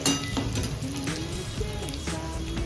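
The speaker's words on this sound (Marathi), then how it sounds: "थोडं परतून घ्यायचं असं टाकल्यानंतर मग त्यानंतर यामध्ये तिखट मसाला आणि हळद सोडायची" Bitter gourd frying with chili masala and turmeric in a pan, a busy close sizzle mixed with scraping stirs and light metallic clinks, no speech.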